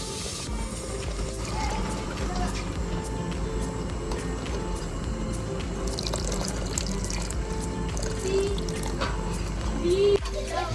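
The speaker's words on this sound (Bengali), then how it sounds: "দিয়ে দিচ্ছি আদা রসুনের জল।" Ginger-garlic water is poured into a pot of mutton biryani, a running trickle and splashing with scattered drips and clinks, accompanied by soft talking in the background.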